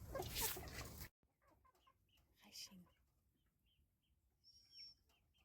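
Chickens cluck in short, scattered bursts on a farm, fairly close, after a brief loud burst of noise at the start.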